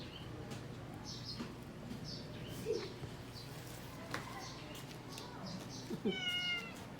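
Soft cat meows come and go under quiet talking, with a low hum in the background and faint bird chirps.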